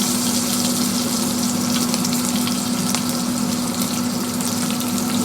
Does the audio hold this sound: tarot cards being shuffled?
no